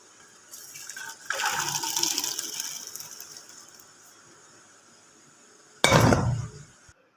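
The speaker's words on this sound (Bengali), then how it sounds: "এই পাত্রটার মধ্যে ডালটা ঢেলে দেবো" Boiled chana dal is poured from a pan into another pot, a steady wet splashing for a few seconds that fades out, followed by a sharp clatter of the metal pot near the end.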